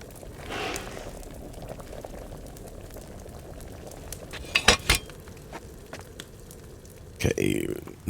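Bubbling water boils steadily during alchemy brewing in Kingdom Come Deliverance 2, a soft continuous simmer with a couple of brief louder clinks or splashes midway and near the end.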